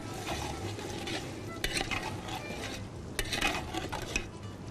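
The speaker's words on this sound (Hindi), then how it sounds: "पुदीना, ज़रा सा मिक्स कर दूं।" A spoon stirs chopped mint through a pot of chicken biryani, with a steady scraping and clinking against the pan and a soft sizzle beneath. Sharper knocks come at intervals, and the stirring sounds close and fairly loud.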